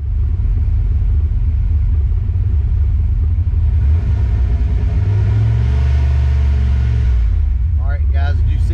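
Ford Mustang Foxbody engine starting up and idling with a low steady rumble, then swelling briefly as it revs before dropping back, close and loud.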